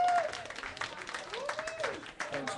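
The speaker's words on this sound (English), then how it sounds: "give a massive round of applause" Audience applause for a band at a live music night, steady clapping that fills the moment with voices and some whistling mixed in, moderately loud and sustained.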